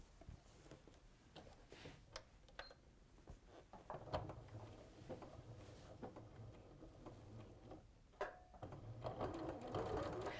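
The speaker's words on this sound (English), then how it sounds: "I'm now going to go along the bottom and just sew that in." A home sewing machine runs a lock stitch through quilt fabric, with soft steady mechanical whirring and irregular ticks and clicks, close but quiet, with no talking.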